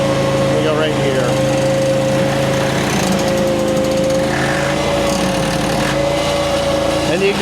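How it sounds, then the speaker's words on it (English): Engine of a V1000 tracked machine runs steadily with a high whining drone while crossing a lawn, its chain drive churning beneath, loud and close throughout with some voice layered in. "you can hear the, I guess, chain drive in there somewhere when you're going down hills and you're turning"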